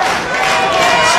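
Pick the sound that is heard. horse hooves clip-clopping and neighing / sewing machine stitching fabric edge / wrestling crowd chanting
wrestling crowd chanting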